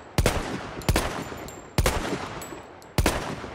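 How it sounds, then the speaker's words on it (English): Four sharp gunshots from a rifle in Battlefield 1, fired at a wall at a slow, irregular pace, each crack loud and close and trailing into a rumbling echo. "I'm going to shoot this wall over here"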